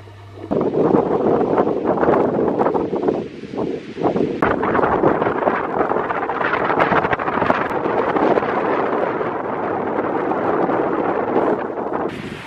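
Strong mountain wind during the 2021 UTMB ultra-trail, roaring and buffeting close against the microphone without a break, loud and steady with gusty surges and rustling throughout.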